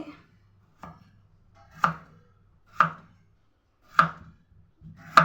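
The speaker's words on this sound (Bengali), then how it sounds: "এবার এরকম সরু সরু করে লম্বা লম্বা করে আলু ভাজা যেমন কাটে এরকমভাবে কেটে নেব" Peeled potatoes being cut into long thin strips on a board, sharp knife chops landing singly at a slow, even pace, about one per second, close and clear with no talking.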